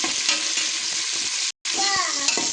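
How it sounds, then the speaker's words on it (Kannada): Onions frying in a pan until brown for pulao, a bright steady sizzle with stirring clatter, briefly cut to silence before resuming with a few tonal scraping squeaks. "ಉಳ್ಳಾಗಡ್ಡಿ ಬ್ರೌನ್ ಕಲರ್ ಬರಬೇಕು, ಅಲ್ಲಿವರೆಗೆ ಫ್ರೈ ಮಾಡಿ"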